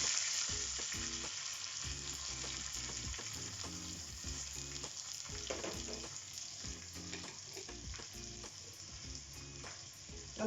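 Chillies, curry leaves, shallots and mustard seeds fry and get stirred in a pan for Kerala-style nemeen fish curry, with a continuous sizzle and a steady run of rhythmic spoon scrapes and clatters throughout.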